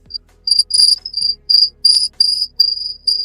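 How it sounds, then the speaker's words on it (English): A cricket chirps in short, bright bursts, about eight loud, close pulses repeating at a steady rhythm over a quiet background with no talk. "No, that's a cricket."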